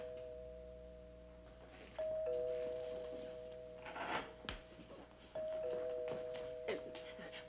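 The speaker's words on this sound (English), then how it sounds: "don't you think you should answer the doorbell first?" A two-tone household doorbell chime rings twice in a home, each ding-dong ringing out and fading over a few seconds, with quiet room noise and faint movement between the rings.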